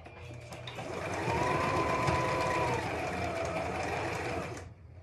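Sewing machine stitching the seam of a child's hat, a close steady motor hum that starts, runs evenly for about four seconds and stops.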